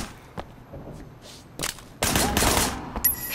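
Gunfire from the open-world action game Sleeping Dogs, a shooter firing from a car's passenger window: a few sharp isolated cracks, then a loud sustained burst of rapid shots near the end.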